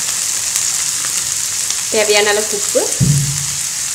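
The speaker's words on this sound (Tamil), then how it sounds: "சும்மா லைட்டாக வதக்கி விட்டுட்டு அதில் அவரக்காய் போட்டுடலாம்." Onion, green chilli and curry leaves sauté with broad beans in hot oil and popped mustard seeds, a steady close sizzle running under a woman's speech throughout.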